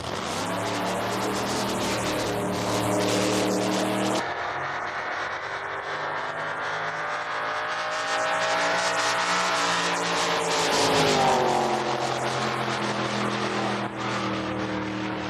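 The Hell on Wheels wheelstander car makes an exhibition run at E-Town Raceway Park, its engine roaring loudly with a sudden cut in the sound, then rising and falling engine tones as the run goes on.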